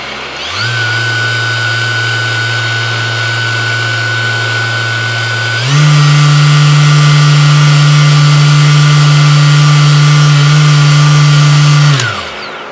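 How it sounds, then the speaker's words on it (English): An Ekasand electric sander runs at different motor speeds: a steady whine starts, holds, then steps up to a louder, higher speed partway through before spinning down at the end. "Pressing the center button under the LED changes the light to green, and the sander is ready for use."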